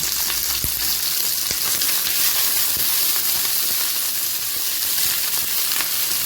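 Masala paste with cashews, ginger and tomato sautéing in a pan for paneer butter masala, giving a loud, steady sizzle and fry with occasional stirring clicks, no talk.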